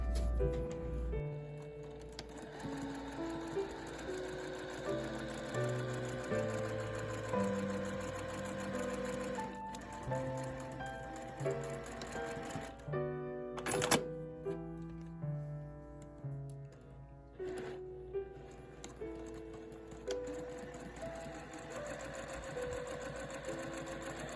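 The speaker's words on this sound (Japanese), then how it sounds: "こういう形で両方ステッチ端ミシンをかけました。" A sewing machine runs steadily, stitching along the folded edge of a quilt hanging sleeve, its fast mechanical whirr and ticking continuous and close with brief slowdowns, no talking over it.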